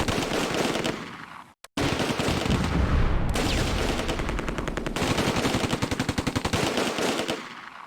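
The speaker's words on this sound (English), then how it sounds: "the half-track's got the machine gun" Loud, sustained machine-gun fire from a half-track in Close Combat: A Bridge Too Far, rapid rattling bursts with a brief gap, then a steady stream of sharp shots.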